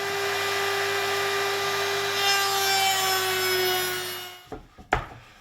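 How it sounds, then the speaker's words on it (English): Tenon saw cutting through cedar wood in a steady, continuous rasping stroke, loud and close, ending as the piece breaks free with a couple of sharp knocks. "I've cut it out with a tenon saw"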